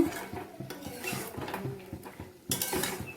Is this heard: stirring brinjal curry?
yes